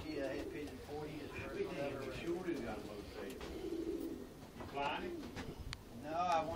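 Pigeons coo in a large 32-foot pigeon loft, a soft low murmuring chorus running throughout under steady conversation between men nearby.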